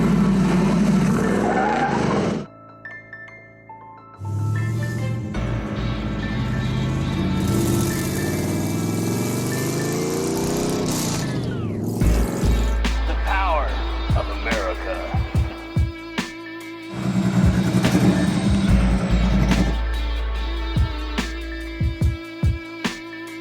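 A 2021 Mustang with a stock 5.0 engine accelerating hard on a test drive, the engine roaring and rising through gears with pauses between pulls; a voice speaks at points.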